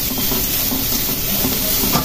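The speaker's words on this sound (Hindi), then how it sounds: "गाजर और बीन्स को डालकर अच्छे से भूनेंगे इसे भी" Carrots and beans stir-frying on high heat for a momo filling, a steady loud sizzle with soft stirring scrapes running throughout, no voices.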